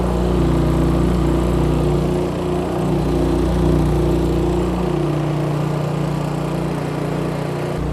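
A portable generator powering HMI lights runs loud and close in eco throttle mode, a steady droning hum whose pitch drops partway through as the engine settles to a lower speed.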